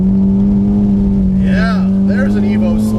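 A modified Mitsubishi Evo X slides on a wet track, its engine droning loud and steady at close range while someone talks over it.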